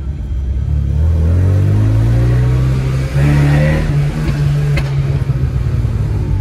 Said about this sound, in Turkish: Kendi kendine eksos patlatıyor var.